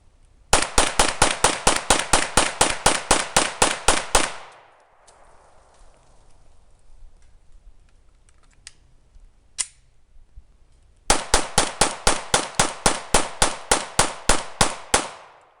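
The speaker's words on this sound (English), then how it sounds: "I'm going to be firing it just to show you how it functions" A Smith & Wesson SD9VE 9mm pistol fires two rapid strings of sharp, loud shots, each about a dozen evenly spaced reports, separated by a quiet pause of several seconds.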